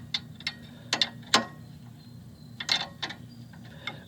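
A ratchet wrench loosens an upper control arm bolt on a Porsche 986 Boxster, giving quick clicking bursts of pawl ticks close by, pausing between strokes.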